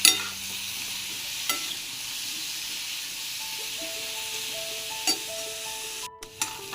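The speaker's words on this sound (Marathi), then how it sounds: "थोडंसं लालसर होईपर्यंत या फोडी परतून घ्यायच्या" Raw papaya pieces sautéing in hot oil in a wok give a steady, soft sizzle throughout, with a few brief clinks of a utensil against the pan.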